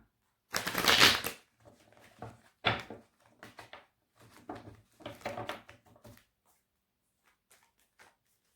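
Tarot cards being shuffled, a loud riffling burst followed by several shorter flicks and slides as cards are drawn, close and dry, then quiet.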